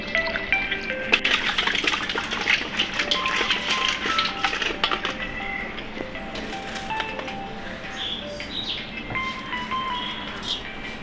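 Water splashes and trickles as cleaned magur catfish are washed with salt, a steady wet sloshing with scattered clinks and a faint whine underneath.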